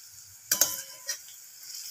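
Spinach fritters frying in a pan are flipped with a spatula, giving a quiet start, then sharp scraping and sizzling bursts, followed by a softer sizzle.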